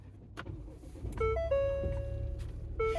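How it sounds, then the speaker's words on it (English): A Ford Bronco Sport starts up inside the cabin, a low rumble underneath a sequence of clear electronic chime tones that ring out in a short melodic pattern, fairly quiet and close. "Now that we have the device installed, we'll start up the vehicle"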